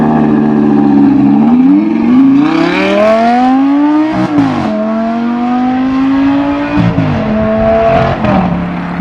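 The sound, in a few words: Audi R8 V10 driving off with strange gear change noise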